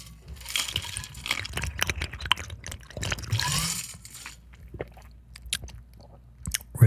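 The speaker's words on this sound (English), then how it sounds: "I need some water. Hold on. Excuse me while I take a sippy." A person takes a sip of water, with wet mouth and swallowing sounds close up for a few seconds, then quieter small clicks and drips.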